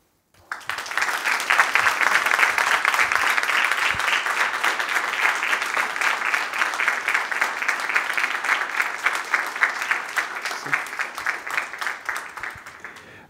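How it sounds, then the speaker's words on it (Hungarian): An audience applauds a speaker on stage, a dense sustained wash of many hands clapping that starts abruptly, holds strong for several seconds, then slowly thins and fades toward the end. "Minden rockstárnak kijár a taps a színpadon."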